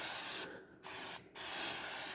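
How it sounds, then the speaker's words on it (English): Butter-flavored cooking spray from an aerosol can misting into the inner pot of a Ninja Foodi, heard as two steady hissing bursts separated by brief pauses, close and alone with no talking. "taking a little bit of this butter flavored Walmart cooking spray, and I spray it over the inside of the pot"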